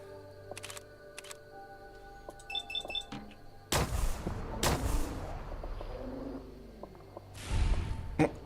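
Sniper gunfire in the Fallout 4 video game, with a few sharp loud shots amid quieter clicks and game effects, each blast followed by a short decay and ringing tail.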